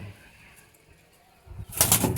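Punjabi pigeons, including a female, sit quietly before a sudden close burst of wing flapping near the end.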